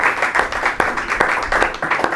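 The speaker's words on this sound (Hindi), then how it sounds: "एक दफ़ा फिर से ज़ोरदार तालियां हमारे आज के गेस्ट की।" A studio audience at a Christian television programme gives a guest dense, loud applause, with a continuous wash of many hands and occasional sharper individual claps throughout.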